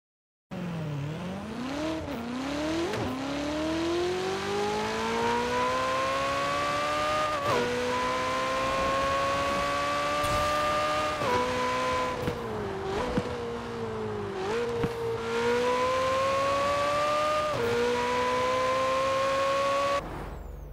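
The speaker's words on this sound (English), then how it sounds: "here is some footage, car sounds and acceleration of every single Forza Edition car in the game" Forza Edition cars in the Forza Horizon 4 video game accelerating hard, engines revving up through repeated gear shifts with rising whines and brief tire squeal, loud and continuous with no talk.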